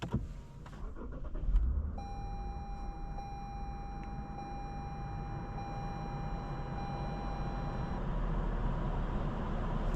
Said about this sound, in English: Today, let's go for a drive in this 2015 Lexus RC350.